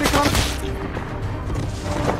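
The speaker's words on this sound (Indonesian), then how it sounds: "Ahmed menembak ketiga musuh tersebut." Gunshots in an action film fire as a brief loud volley, followed by a booming, rumbling backdrop, heard close in a short burst.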